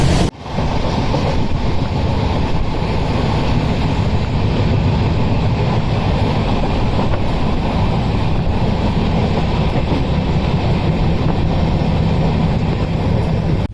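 Inside a moving Anand Vihar–Santragachi superfast express train, a constant, loud rumble with wind-like roar fills the carriage steadily, with no voices.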